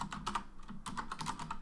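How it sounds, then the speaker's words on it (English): Quick keystrokes on a computer keyboard as a short script name is entered, a brisk run of close clicks with a brief pause in the middle. "We're going to call it increment"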